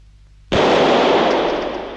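A single sharp sniper-rifle shot in a film cracks out abruptly after a near-silent start, loud and close, its broad blast decaying slowly over the following second and a half.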